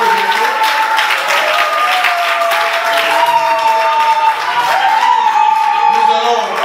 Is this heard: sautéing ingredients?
no